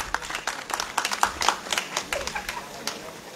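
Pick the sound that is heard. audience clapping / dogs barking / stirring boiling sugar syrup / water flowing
audience clapping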